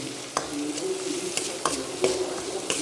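Broccoli with capsicum, half a tomato, green chillies, curry leaves and turmeric stir-fried in a pan, giving a steady sizzle broken by sharp spatula scrapes and clinks against the pan every second or so.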